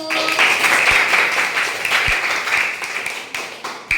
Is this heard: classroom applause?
yes